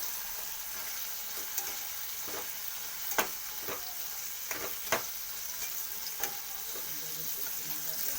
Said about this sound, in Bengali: কাঁচা সরষের তেল দিয়ে দিলাম, দিয়ে একটু নেড়ে নেব